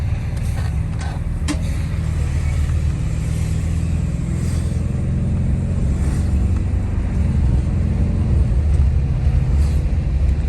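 A Wanderlodge motorhome engine with an AFC diaphragm repair builds under load onto the freeway, turbo boost rising as a steady, loud low-frequency drone with some wind rush, continuous and close throughout.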